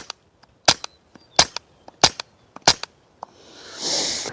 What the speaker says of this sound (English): followed by 9 rounds of the subsonic ammo